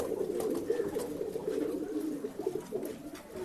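Pigeons in a Bangalore flyer loft give soft, low, continuous cooing, murmuring close by without pause.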